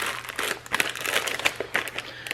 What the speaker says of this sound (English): So I have here a plastic bag inside a cup.